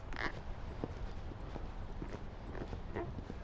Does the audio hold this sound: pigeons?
no